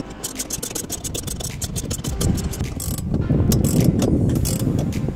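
Rapid ratchet clicking while tightening screws on a car roof-tent crossbar rack, a steady close run of sharp clicks over a dense grinding mechanical texture that grows slightly louder toward the end.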